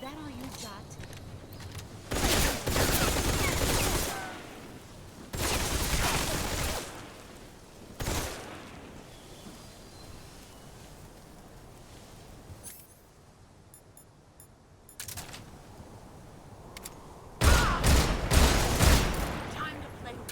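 Bursts of gunfire in the stealth action game Metal Gear Solid Delta, several loud sustained volleys of a few seconds each separated by quieter stretches, with some talk between them.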